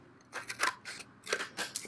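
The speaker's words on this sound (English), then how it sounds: "I'm just going to use my scissors for the sake of the video." Scissors snipping through paper for a trifold folio, a few quick close crunchy cuts in two bursts, with no talking.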